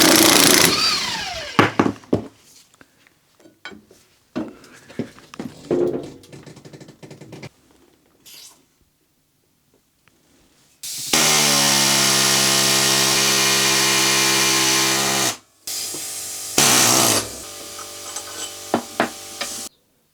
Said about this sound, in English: The air hammer is a great tool to use.